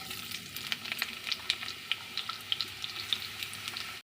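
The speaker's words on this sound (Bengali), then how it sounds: "কড়ার মধ্যে দিচ্ছি সর্ষের তেল আমি আজকে ঝালটা সর্ষের তেলেই বানানো হয়ে গেছে এখন দিচ্ছি পেঁয়াজ" Onions fry in mustard oil in a wok, a soft steady sizzle with scattered sharp pops and crackles, fairly faint and close, with no voices.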